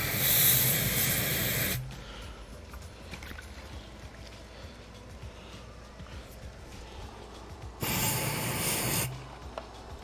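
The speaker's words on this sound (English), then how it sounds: "Gotta rinse this here jug out a little tad bit." Water splashes and sloshes while a jug is rinsed out outdoors, two loud hissing bursts of running water separated by quieter trickling and handling noise, no talking.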